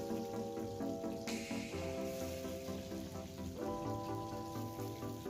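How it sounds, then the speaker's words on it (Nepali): Oil and chopped onion sizzle in a hot kadai with a steady, close crackling hiss that stays even from start to finish, while sustained tones sound in the background. "कराई तातिसकेको छ, यसमा तेल हाल्ने छु। त्यसपछि काटेको प्याज,"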